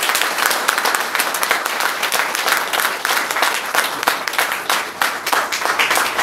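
Seminar audience applauding for the organizers, a loud, dense burst of many hands clapping that carries on steadily without a break.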